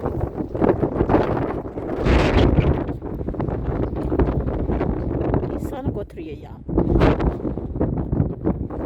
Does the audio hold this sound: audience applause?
no